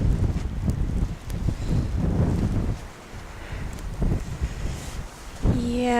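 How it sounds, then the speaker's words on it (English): Wind gusting through a snow blizzard in Maryland, a rough, roaring rush across the microphone that swells and eases, with a brief sharper sound near the end. "See the wind blowing."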